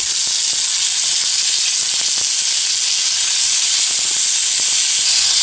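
Chillies and tomatoes sautéing for a chutney give a loud, steady sizzle and hiss that runs unbroken from start to finish, with faint stirring clicks scattered underneath.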